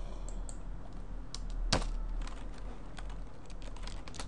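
Computer keyboard keys pressed in short bursts while a password is entered, soft close clicks under a steady low room hum with one sharper louder tap midway.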